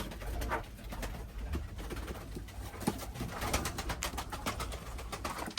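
White performance pigeons coo repeatedly in soft overlapping calls, close and steady, with a few wing flutters and rustles among them.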